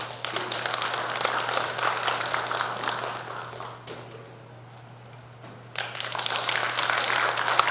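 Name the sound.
applause welcoming the preparatory committee chair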